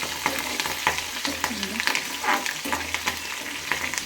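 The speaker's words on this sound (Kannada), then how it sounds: "ಹಸಿಮೆಣಸಿನ್ಕಾಯಿ ಚೆನ್ನಾಗಿ ರೋಸ್ಟ್ ಆಗೋವರೆಗೂ ಕೂಡ ಚೆನ್ನಾಗಿ ಇದು ಫ್ರೈ ಮಾಡ್ಕೋಬೇಕು." Green chillies frying and roasting in hot oil, a close, crackling sizzle with stirring scrapes and occasional sputters continuing steadily without talk.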